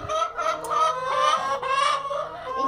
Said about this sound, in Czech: Díky slepica.